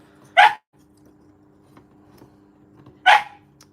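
A dog indoors gives two sharp, fairly close barks about two and a half seconds apart over a faint steady hum, with no one talking.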